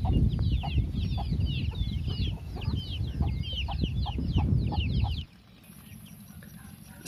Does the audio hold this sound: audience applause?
no